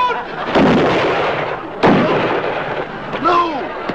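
Gunfire aimed at a bear on a moonlit night in a classic comedy sketch: two loud, sharp shots about a second apart, then a third smaller bang near the end, all over noisy background.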